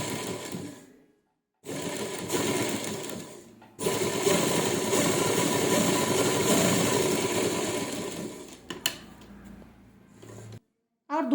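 A sewing machine stitches piping around a round neckline in loud, whirring bursts broken by short silent pauses, with a brief voice near the end.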